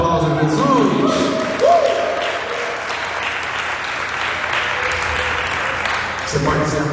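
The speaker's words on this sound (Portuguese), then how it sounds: "Se você recebe, dê um aplauso a Jesus." Steady applause from a church congregation fills the room for several seconds, with a few voices rising above it before it tapers off near the end.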